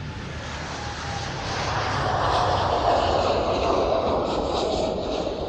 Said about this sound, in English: Dreamliner to San Francisco.